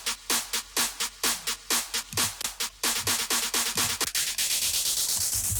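Three layered claps and snares in an EDM drop made in FL Studio, treated with reverb and delay, strike in a rapid steady pattern that builds into a dense, rising wash of noise, loud and upfront.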